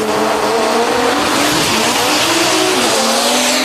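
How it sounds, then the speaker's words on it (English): A drag race car makes a run, the Router Race Labs car, its engine roaring loud and close with a continuous harsh, high-revving blast and a rising pitch throughout. "Kyle Seibert coming around for another shot in the Router Race Labs car."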